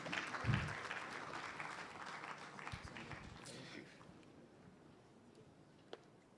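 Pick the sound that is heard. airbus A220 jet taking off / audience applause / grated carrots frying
audience applause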